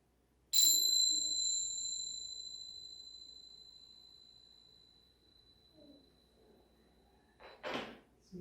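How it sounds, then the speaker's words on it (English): A bright bell rings once and its tone fades slowly over several seconds in a quiet room, followed later by faint rustling and a short soft knock. "the next time you hear the bells, we're going to roll on to our other side"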